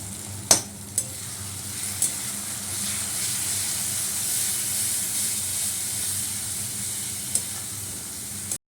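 Fried onion sizzling in a pan as turmeric, chili powder and ginger paste are added, a steady hiss of frying with a few sharp clinks of a spoon at the start and near the end, no talking.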